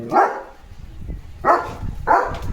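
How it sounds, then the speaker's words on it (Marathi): Three sharp, close barks from a German Shepherd barking at cattle coming home from the fields, spaced about a second apart over low background noise. "गुरु रानातून घरी यायला लागलेत तर भुंकतोय"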